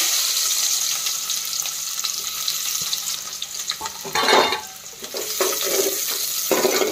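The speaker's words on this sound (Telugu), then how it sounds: "ఆయిల్ అయిన తర్వాత ఆనియన్స్ అయితే వేయాలి" Onions fry in hot oil for noodles, a continuous close hiss and crackle with a brief louder burst of sizzling and stirring partway through.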